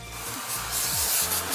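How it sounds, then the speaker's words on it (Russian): An oil spray bottle hisses steadily as cooking oil is misted onto raw chicken for shawarma, a close, continuous airy spray sound. "Так, теперь мы обработаем маслом. У меня есть масло-спрей"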